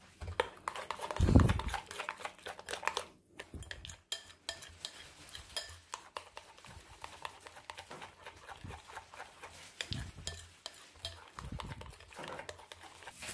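A spoon stirring a chocolate truffle mixture in a bowl until smooth, giving close scraping and clinking strokes with one louder knock near the start and a steady rhythm after it.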